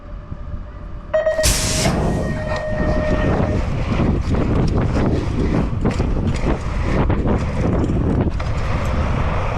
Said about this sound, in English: Oh my God, the wind.